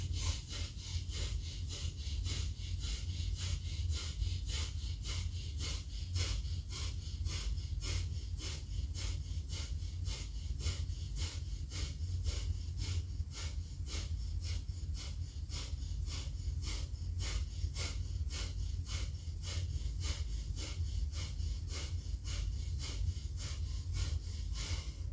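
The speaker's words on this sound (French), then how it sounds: "Après ce premier tour de Brastika pour activer l'énergie" Forceful, rhythmic bhastrika yoga breathing: quick, even in-and-out breaths pumped through the nose at a steady fast pace, close and continuous without pause or speech.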